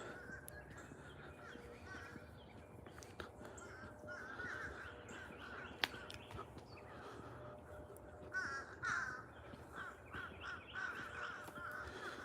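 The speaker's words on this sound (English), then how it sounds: "Can you hear those birds?" Crows cawing at a distance beside a nature trail near lakes, scattered calls rising over a soft outdoor ambience with light rustling.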